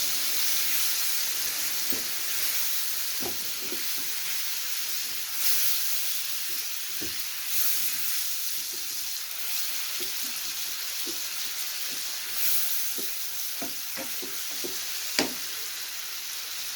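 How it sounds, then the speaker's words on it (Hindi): Papaya pieces frying in hot ghee in a pan give off a steady soft sizzle and hiss, with scattered faint clicks and light stirring sounds throughout and no talking. "अभी जो पपीता है वो इसमें हम ऐड कर देंगे ऑयल में,"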